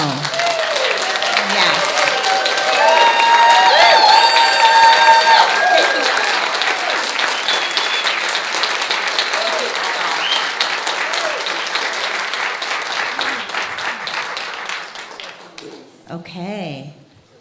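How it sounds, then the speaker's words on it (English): Sustained, loud congregational applause for the board and a honoured member at a spiritual center service fills the room for over fifteen seconds before fading, with a brief spoken word at the end. "let's applaud the board and let's applaud Joan"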